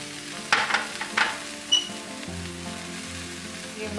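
Chopped carrots, beans, corn and other vegetables go into a hot pan and sizzle softly, with a few clinks and stirring scrapes early on, then a steady low frying hiss.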